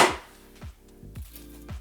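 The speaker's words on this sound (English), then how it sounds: "learning how to chop onions correctly" A knife chops onions in five sharp, evenly spaced strikes against a cutting board, each a crisp close thud, with no talking.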